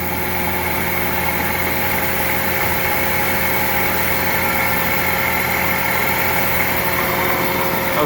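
A Union BFT 105 CNC horizontal boring mill spindle runs steadily at 2,500 RPM with a constant machine hum and high tonal whine. The sound is loud and unchanging, with no voices.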